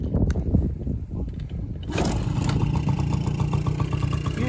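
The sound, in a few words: Honda Motocompo scooter engine idling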